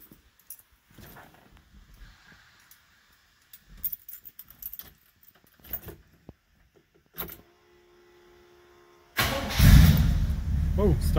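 A 1965 Oldsmobile Cutlass F-85 Sports Coupe engine, not yet run that day, cranks and catches near the end, bursting into a loud, steady idle right beside the mic after a stretch of jangling keys and quiet cabin handling.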